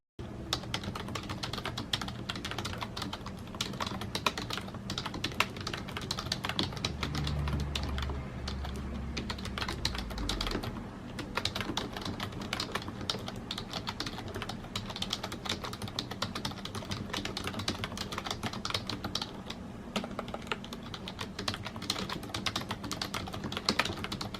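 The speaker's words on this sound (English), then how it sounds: "here's what the keyboard sounds like." Steady typing on an HP USB Slim Business Keyboard with thin ABS keycaps, a dense run of clicky keystrokes continuing without pause, close and fairly loud.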